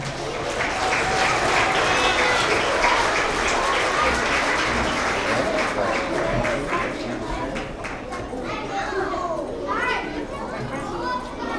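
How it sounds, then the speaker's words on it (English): A school award assembly audience of young children and parents applauds loudly and steadily, with cheers and chatter mixed into the dense clapping throughout. "Have another round of applause for all of our first grade Tigers of the quarter."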